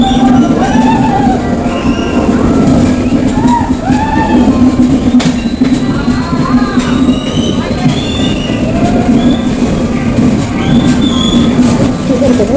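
A mirror-coach passenger train on the Vizag to Araku line rumbles loudly and steadily, with a constant low drone, high wheel squeals running through it, and faint voices under the noise.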